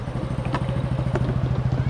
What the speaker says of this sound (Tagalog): Ayan, tumatawid po ng motor,